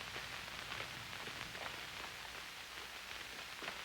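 A storm in an old film pours down as soft, continuous rain, a faint hiss with light drops tapping underneath and no speech.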